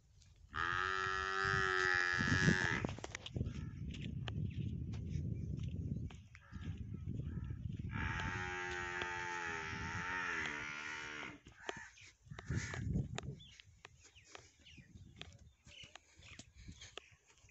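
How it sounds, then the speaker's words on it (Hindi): Buffaloes on a village farm give loud, drawn-out moos, two long calls several seconds apart, with quieter shuffling between them and a faint crow in the distance. "कुछ भैंस इधर हैं।"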